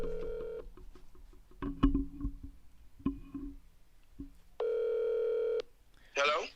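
A telephone is dialed to call someone back, with a series of rapid keypad tones, two longer steady beeps and a brief burst of voice at the end.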